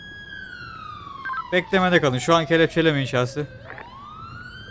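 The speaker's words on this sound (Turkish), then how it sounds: "Sirenleri kapat. Sirenleri kapat." Police car sirens wail in GTA V roleplay, a long smooth tone sliding downward through most of the stretch. Radio-like voices talk loudly over it in the middle, and the siren rises again near the end.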